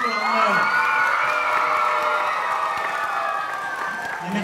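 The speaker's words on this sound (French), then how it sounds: "Donc vous pouvez leur faire des très gros applaudissements" Lively crowd at a Christmas gathering breaks into clapping mixed with high-pitched cheers, whoops and children's shouts, a bright, continuous roar that stays loud throughout.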